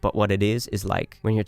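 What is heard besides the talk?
None of the usual background noises is heard.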